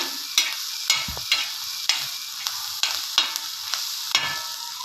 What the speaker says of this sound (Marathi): आलं लसूण तेलामध्ये भाजायचं।